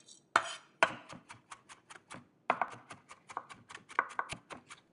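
Knife chopping garlic into a fine mince on a board, a rapid run of sharp, close wooden taps in uneven bursts, alone without talk.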